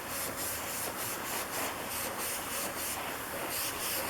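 Thinned black paint sprayed in light coats onto a model Corsair cockpit: a steady continuous hiss with faint rhythmic pulsing, moderately quiet and unbroken, with no voices.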